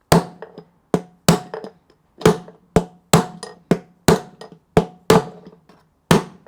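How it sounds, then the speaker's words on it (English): Hammer strikes drive a bearing out of a Samsung washing machine drum spider, about a dozen sharp metallic whacks in loose pairs and singles, close and loud with brief ringing decay between blows. "you're going to damage it as you whack that bearing out of place"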